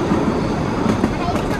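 A passenger train runs on rails past Jurain station in Dhaka: steady, close rumble and rattle of wheels inside the carriage, with a voice speaking over the noise.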